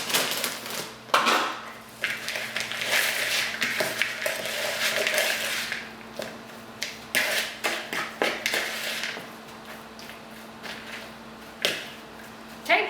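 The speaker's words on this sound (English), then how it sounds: "you mix your dough in together like that" Chocolate chip cookie dough with chocolate chips being mixed in a bowl: repeated scraping and clinking of a utensil against the bowl in irregular strokes, fairly close, with occasional quieter gaps.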